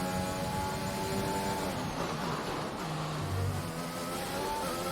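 A Formula 1 racing car engine in the F1 2021 game at Monaco screams continuously up close, with its pitch dropping and climbing through gear changes and corners.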